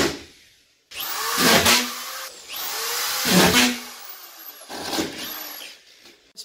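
A power drill drives a screw into a small piece of sheetrock at a bottom corner, with three loud whirring bursts that rise and fall in pitch. Each burst is close and lasts about a second, with short pauses between them.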